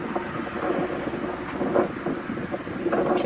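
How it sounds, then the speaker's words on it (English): Wind buffeting a microphone at Hawke's Head lookout in Kalbarri National Park, a constant low rumbling roar with gusty swells, steady and fairly loud, with no voices. "You can hear the wind in the background"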